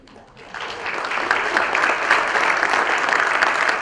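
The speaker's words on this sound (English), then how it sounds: "A round of applause." A crowd at a tech and business expo breaks into applause that swells quickly and holds steady, dense clapping from many hands filling the room.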